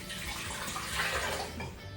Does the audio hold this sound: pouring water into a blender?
yes